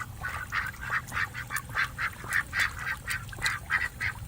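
Domesticated pet ducks quacking in a rapid, regular series of nasal calls, fairly close, repeating about twice a second over a low background rumble.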